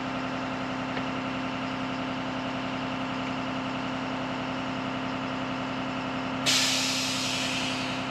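A bought bus's diesel engine idles at high idle while air brake pressure builds toward 120 PSI, a steady loud rumbling drone with a constant hum, ending in a sudden sharp hiss of air release near the end.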